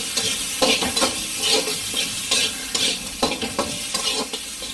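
Crushed garlic, ginger and fennel sautéing with onion in a pan, a close sizzle broken by rhythmic, repeated scraping and stirring strokes about every half second, with no voices.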